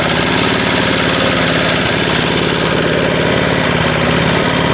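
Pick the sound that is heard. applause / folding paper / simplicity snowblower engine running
simplicity snowblower engine running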